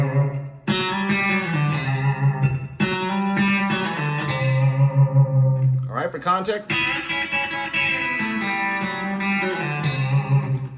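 A B-bender electric guitar plays a twangy country lick, close and bright with slightly overdriven tone, picked notes and bent pitch glides, and a brief spoken remark near the start.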